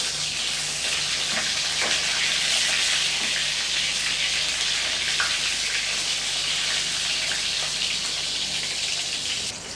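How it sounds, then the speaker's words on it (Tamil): Brinjal pieces sauté in a hot pan for a gravy, giving a continuous bright sizzle and hiss with faint stirring scrapes, close and steady throughout without any speech. "கத்திரிக்காய் ஒரு 2 நிமிஷத்துக்கு கொஞ்சம் கலர் மாறுற அளவுக்கு நம்ம நல்லா வதக்கி விட்டுக்கலாம்"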